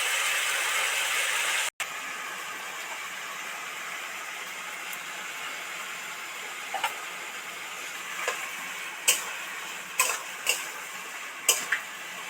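Spices and vegetables, radish, taro and spinach, fry in oil in a pan with a soft steady sizzle, while a spatula stirring makes sharp scraping clicks that become more frequent toward the end.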